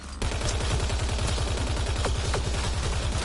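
Gunfire aimed at remnant bots in the video game Mass Effect Andromeda, a rapid, steady stream of shots over a constant low hum, with a few sharp swooping effects.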